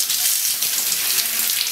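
Lukewarm running water from a tap rinsing washed Dyson V6 vacuum parts; a steady, close hiss of flowing water with small splashy fluctuations, without speech.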